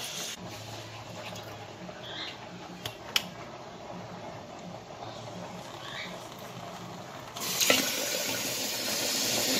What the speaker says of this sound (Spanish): Vamos a lavar el arroz.